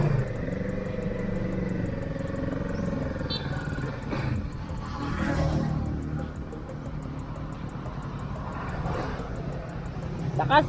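Kawasaki 650 motorcycle engine runs at a steady, moderately loud idle with a low throbbing drone, rising briefly as though revved, while a person talks over it.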